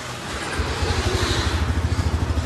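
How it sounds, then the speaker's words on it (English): Honda Rancher 420 ATV engine idling and running loud and close, a low steady pulsing rumble that settles into an even throbbing rhythm after a brief start. "we are riding the Honda Rancher 420"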